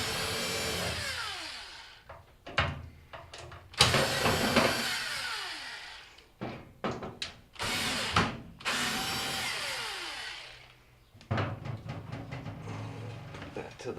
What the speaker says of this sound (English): so we're going to remove all the screws that hold that panel on.